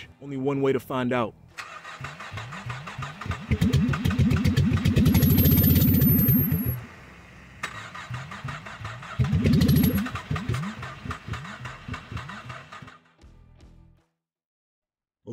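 A neglected Cadillac's starter cranks in fast rhythmic pulses, then the engine catches and runs loudly in two rough bursts before dying away, with someone speaking briefly at the start.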